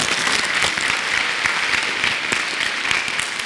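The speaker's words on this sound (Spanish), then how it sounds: "Le damos un fuerte aplauso" Dense, loud applause from an audience after a veterinarian's talk on white rhinoceros training, a continuous wash of many hands clapping.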